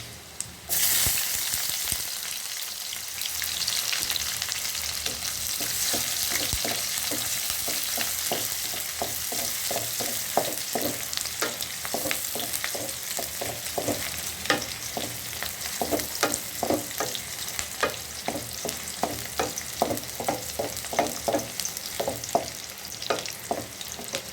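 Dried chillies, chopped garlic and onion frying in hot oil, a dense continuous sizzle close by, with repeated rhythmic stirring taps and scrapes growing busier through the second half.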